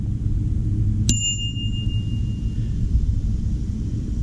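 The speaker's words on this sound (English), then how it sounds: "It even has a bell on it." A single bright ding from the bell on a Trek Navigator 2.0 bicycle in really nice condition, struck once and ringing out for over a second above a steady low background rumble.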